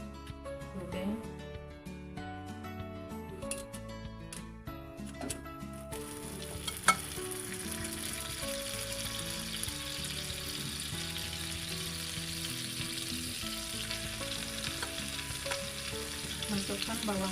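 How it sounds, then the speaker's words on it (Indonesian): Sliced ingredients sizzle and fry in a pan for chicken cooked in butter, a steady loud hiss after a quieter opening with stirring clatter, with a brief sharp clink partway through. "Sekarang saya akan tumis bahan yang sudah saya iris."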